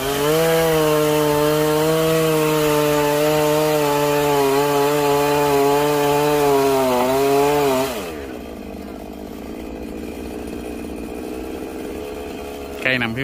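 A chainsaw engine runs loud and steady for about eight seconds with a wavering pitch while cutting down a phoenix tree beside a fence and wall, then cuts off, leaving quieter background noise.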